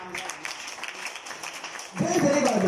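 A church congregation breaks into applause for the Lord, preceded by scattered claps under a voice, then a sudden burst of loud, dense clapping filling the last second.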